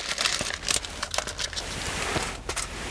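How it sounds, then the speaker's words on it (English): Crinkly paper wrapper is peeled off a McDonald's breakfast sandwich, with close, rapid crackling and rustling in irregular bursts throughout. "I take the crinkly paper off because that's annoying me."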